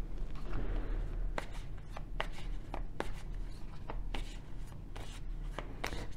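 Tarot cards shuffled by hand for a reading, a run of crisp, sharp riffles and slaps spaced irregularly over a steady low background hum, close and moderately loud with no talking.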